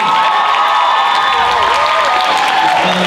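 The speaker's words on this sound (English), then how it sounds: "Can we get a round of applause?" Loud applause and cheering from a crowd at a university Asian night comedy show, with shouts rising over the clapping and a sustained tonal hum running underneath.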